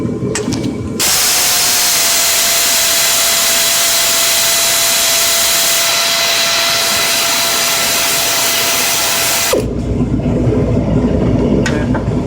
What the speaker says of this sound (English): So let's go ahead and get this last bolt off.